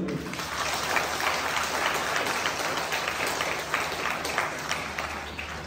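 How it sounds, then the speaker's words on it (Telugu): A large audience at a spiritual discourse on Adi Shankaracharya claps loudly and steadily, a dense, continuous wash of applause lasting throughout without pause. "గట్టిగా చప్పట్లు"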